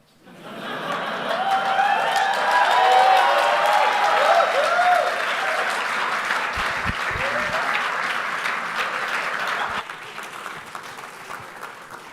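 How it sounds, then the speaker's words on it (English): Sustained audience applause fills a conference room at a startup demo day, a dense wash of many hands clapping with a scattered chuckle, easing slightly toward the end before fading. "A lot of bad people not clapping right now in this room."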